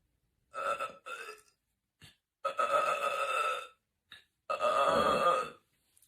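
A series of loud, drawn-out burps in separate bursts, the longest lasting more than a second each, with short gaps of silence between them.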